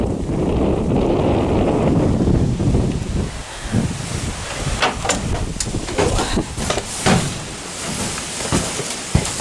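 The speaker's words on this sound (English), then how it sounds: "The wind has tremendously picked up. It was not this windy 2 hours ago." Strong wind buffets the microphone in a steady, heavy roar, with gusty rumbling and scattered sharp knocks and rattles in the second half.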